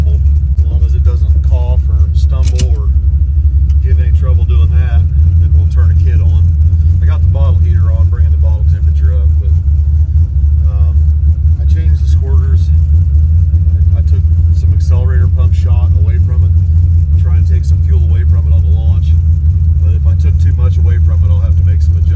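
A drag race car engine runs on motor without nitrous, giving a loud, steady low rumble throughout while voices talk over it.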